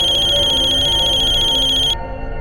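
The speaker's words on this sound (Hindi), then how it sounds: "फोन उठाओ" A phone rings with a steady electronic trill that cuts off near the end, leaving quieter background sound.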